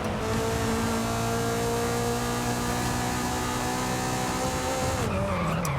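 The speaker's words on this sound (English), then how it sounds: "now that I can hear the engine a bit more clearly" A car in the Forza Horizon 5 racing game drones loudly and steadily with its engine running and tires squealing, then the pitch drops sharply near the end.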